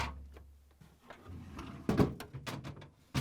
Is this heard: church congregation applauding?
no